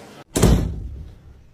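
A door in a dark cinema back corridor closes with a single loud, close thud that rings and fades over about a second; no talk during it.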